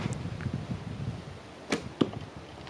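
Arrows are shot from an inexpensive ninja-style recurve bow outdoors: two sharp snaps with a thud, less than a second apart, over a low hum of wind and ambient noise.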